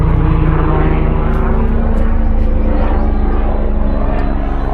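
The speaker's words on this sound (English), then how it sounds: "Oh, it's actually a helicopter, sorry." A loud, steady helicopter engine drone with a low rhythmic rotor throb, close overhead and continuous throughout, heard on a woodland walk at Cannock Chase.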